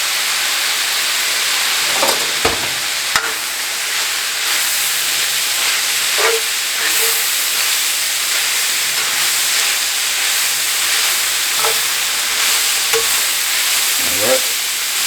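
Mushrooms fry in a hot pan as Worcestershire sauce goes in, giving a steady loud sizzle and hiss with occasional stirring scrapes and clinks.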